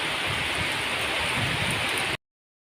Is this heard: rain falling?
yes